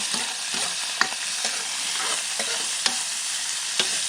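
Pork pieces fry in hot oil with a steady, close sizzle and spatter, broken by occasional scraping stir strokes of a utensil against the pan.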